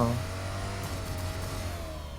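Koenigsegg car engine in the mobile game PUBG Mobile revving with a sustained mid-pitched tone that gently drops in pitch, fairly quiet with some background noise and no talk.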